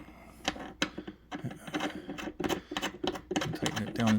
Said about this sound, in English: Tighten it down all the way.